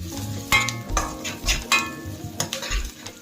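Turmeric, chilli and coriander powder mixed into Andhra-style boondi curry, a close series of spoon scrapes and knocks against the pan with faint sizzle beneath.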